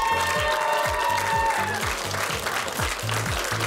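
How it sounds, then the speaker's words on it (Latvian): Audience applause at the final of a team competition, sustained loud clapping from a large crowd with rhythmic low thumps running beneath it. "Aplausi vēlreiz visiem!"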